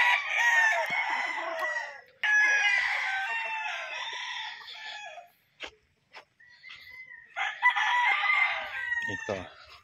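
Raptor Sweater gamefowl rooster, a bulky black-winged bull stag, crows and clucks in repeated loud bursts close by, with short pauses between calls and no talk.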